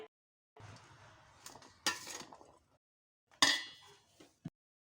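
Chana chaat tossed with potatoes in a bowl: scattered scraping stirs and a few sharp clinks of a spoon against the bowl, separated by short silences, with no talking.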